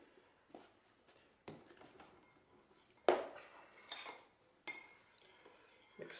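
Coconut cream bar ingredients are being mixed in a bowl. A utensil scrapes and clinks against it in scattered knocks and strokes, close but soft, with no voices.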